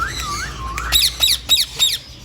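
Yellow ring-neck parrot calling close by, first a couple of rising whistled notes, then four sharp, harsh squawks in quick succession.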